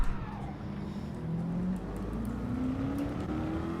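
Race car engines droning steadily in Gran Turismo 7 on the Monza circuit, a continuous mid-level whir with rising pitch as the cars accelerate, no talk over it.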